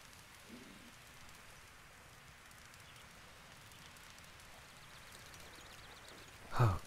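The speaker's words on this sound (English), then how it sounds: "Damn it. Stop raining." Quiet, steady rain hiss throughout in The Legend of Zelda: Breath of the Wild, with a brief soft breathy sound near the end.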